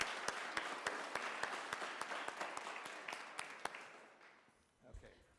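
An audience at a school district board meeting applauds students with scattered hand claps, a fairly even patter that gradually thins and fades over a few seconds before a voice briefly speaks.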